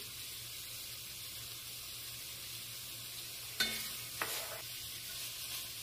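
Bell peppers and onions sauté in a pan for taco filling, a faint, soft sizzle under quiet room tone, broken by a couple of brief utensil clinks and stirring sounds near the end.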